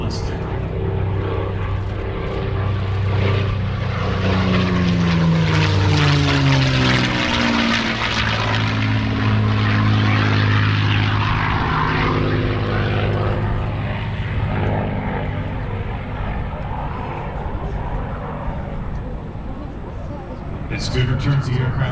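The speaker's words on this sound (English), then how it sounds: "Listen to this beautiful Mustang." A P-51 Mustang's piston engine roars loudly as it passes at an airshow in Orange County, New York, swelling and shifting in pitch as it flies by, with an announcer talking over it.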